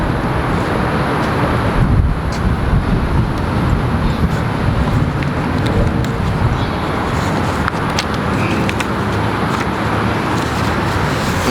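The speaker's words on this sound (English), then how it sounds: "Now it is real windy where I'm at right now" Steady, loud wind roars across the microphone outdoors, a dense continuous rush with no pauses and no clear voices.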